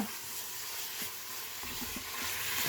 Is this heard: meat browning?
yes